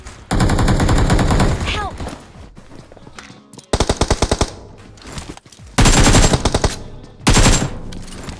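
M4 Glacier assault rifle in the mobile battle-royale game BGMI (PUBG Mobile), several loud bursts of rapid automatic gunfire separated by short pauses, with a voice talking between them.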